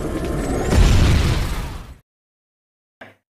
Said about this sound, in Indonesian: mobil tersebut meledak bersama dengan Jack yang masih di dalamnya.